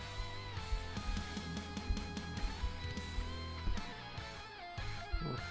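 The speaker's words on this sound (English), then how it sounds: "What you're hearing is a Metal Slug 3 desert theme." The desert stage theme from the video game Metal Slug 3 plays as busy, upbeat game music with punchy bass and melody, heard at low level with no talking.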